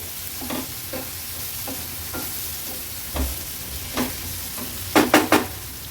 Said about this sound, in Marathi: व्यवस्थित मिक्स करून घेते